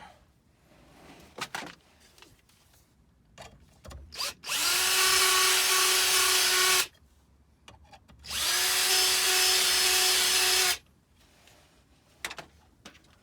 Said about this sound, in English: we may need to clean it up just a little bit with the drill bit to allow it to pass through